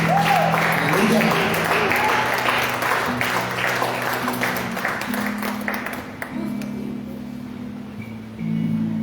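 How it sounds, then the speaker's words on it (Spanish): A church congregation applauds during a Spanish-language service, sustained clapping that gradually fades, with a sustained musical tone and voices underneath. "Ese aplauso es para Dios, ¿verdad?"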